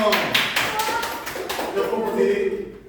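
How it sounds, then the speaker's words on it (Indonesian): Students in a classroom clap for a group called Senyum, a short burst of rhythmic clapping close by with children's voices chattering over it. "tepuk tangan untuk kelompok senyum"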